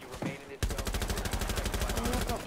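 Rapid automatic gunfire in the Roblox video game, a loud, evenly spaced burst of about twenty shots that starts abruptly and runs to the end, preceded by a brief moment of other game noise.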